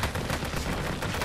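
Rapid pistol fire in the battle simulation game Total Tank Simulator, a quick run of sharp shots packed closely together over a little more than a second.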